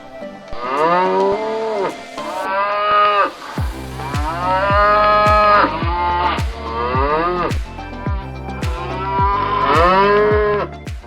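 Several cattle moo one after another while being moved into trucks, long loud lowing calls repeated close by with short pauses between them.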